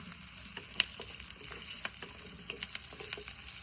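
Grated coconut with curry leaves sautéed in a pan for a wheat papdi rassa dish, a steady soft sizzle with scattered crackles and occasional sharp stirring taps, no talking.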